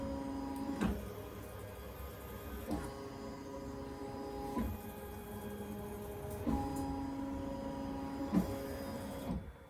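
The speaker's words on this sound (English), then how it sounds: "This will trace the outline of where it's going to stitch so that I know it's going to fit in this hoop." A Ricoma EM1010 embroidery machine traces a design outline before stitching faux leather, producing a quiet electric motor whir with steady tonal hum and soft clicks at each change of direction, repeating in evenly spaced cycles.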